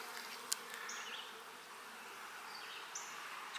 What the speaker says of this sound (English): There's actually a bee right in the center there.